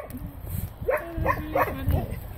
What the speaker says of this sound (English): See if we stand still for too long, Murphy starts barking